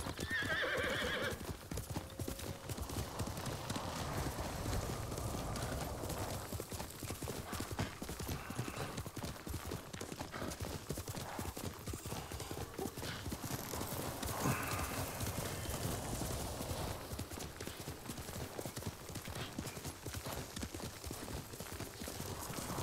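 Steady, rapid clip-clop of horse hooves in the video game Ghost of Tsushima, continuous and fairly close, with neighs and whinnies mixed in over a game soundscape.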